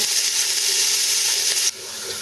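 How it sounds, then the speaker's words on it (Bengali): Onions lightly frying in a pan toward a light brown, giving a steady, close, full sizzle that drops to a quieter hiss near the end. "পেঁয়াজটা আমি হালকা ভেজে নেব দু তিন মিনিট হালকা বাদামি কালার করে"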